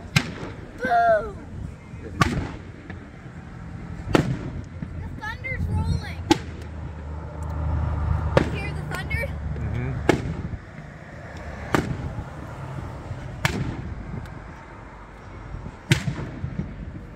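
Tackle box fireworks going off outdoors, a series of sharp bangs every couple of seconds with whistling rockets and crackling bursts, while voices talk and cheer in between.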